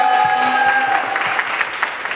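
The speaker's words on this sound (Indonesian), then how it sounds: "tepuk tangan dulu dong" Audience applause at a student talk show, a steady wash of clapping from a crowd with a faint tone and some voices underneath, thinning slightly toward the end.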